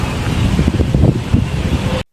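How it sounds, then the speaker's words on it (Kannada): Outdoors, wind buffets the microphone in a loud, low, rumbling gusty roar that lasts about two seconds and then stops abruptly. "ಗಾಳಿ ಬರ್ತೈತೆ"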